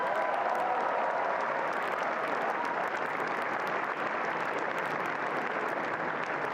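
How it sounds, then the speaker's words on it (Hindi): Large crowd applauding during PM Modi's address to young people at Bharat Mandapam, a continuous roar of many hands clapping at once, even and sustained throughout, heard from within a big hall with no speech. "ये तालियां आपके जोश और गर्व का प्रतीक है"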